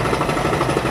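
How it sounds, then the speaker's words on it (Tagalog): Labouring engine of a squid-fishing boat, a loud, rough continuous rattle with uneven knocking pulses, close and alone. "parang bibigay na yung makina natin"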